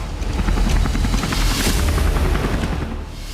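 A steady, loud Israeli Air Force helicopter drone with rapid rotor thumping fills the whole stretch, holding a constant level.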